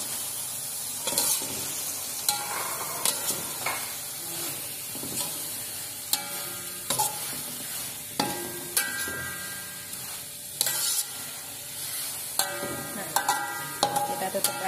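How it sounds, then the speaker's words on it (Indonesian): Vegetables go into a hot frying pan for Aceh noodles with tongkol fish and are stirred, a constant sizzle broken by repeated scraping and clanking strokes of a utensil against the pan, close and fairly quiet. "Sekarang kita masukkan sayurnya."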